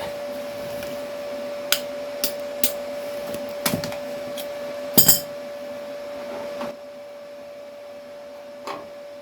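A hammer tapping down a rear lower quarter body panel on a Ford Escort MK1 under restoration, several sharp metallic taps spaced a second or so apart, moderately close, over a steady electrical hum.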